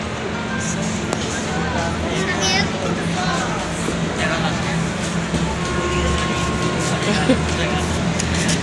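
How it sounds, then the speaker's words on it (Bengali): At a station, a local train rumbles past with a steady rolling roar and faint metallic squeals over a low hum, while people talk nearby throughout. "ওইদিকে লোকাল ট্রেন যাচ্ছে।"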